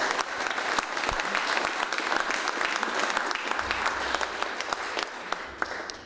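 A banquet crowd at a 2014 AQHA 50 Year Breeders event applauds the staff, sustained dense clapping close by with a few sharper individual claps standing out.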